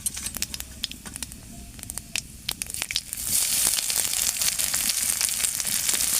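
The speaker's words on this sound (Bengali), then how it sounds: "তেলটা গরম হয়ে গেছে, তেলের ওপরে আমি দিয়ে দেবো 5 ফোড়ন। এবারে দিয়ে দেবো কুচিয়ে রাখা পেঁয়াজ।" Chopped onions added with five-spice seeds to hot oil, opening with scattered crackling pops before a steady, bright sizzle takes over, close and without talk.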